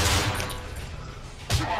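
Gunfire in the horror video game Cry of Fear, a short burst of rapid shots up front and another sharp shot near the end over a dull background.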